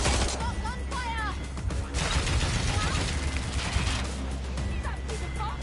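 Rapid bursts of video game gunfire crackle over a busy, loud soundscape, with shouted voices mixed in.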